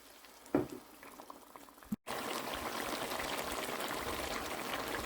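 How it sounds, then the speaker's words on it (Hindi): Onion, garlic and ginger frying in a pot for nihari, with a little water added; a steady, dense sizzle and bubbling that fills the clip after a brief clatter and a short gap, with no talk. "प्याज और लहसुन अदरक को मैंने शामिल कर दिया, और तकरीबन इसको हम 10 मिनट तक भूनेंगे।"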